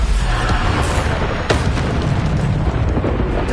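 Bombarda blasting spell explosions in the video game Hogwarts Legacy, loud and continuous, with dense booming blasts overlapping one another and a sharper burst near the middle.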